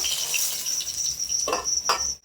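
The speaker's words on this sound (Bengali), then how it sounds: "বাকি মাছগুলোও কিন্তু আমি একইভাবে ভেজে নেব" Small mixed fish fry in a pan of hot oil with a steady high, bright sizzle, joined near the end by two brief clinks of a utensil against the pan.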